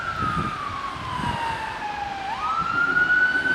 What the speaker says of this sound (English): That's the ambulance on its way anyway.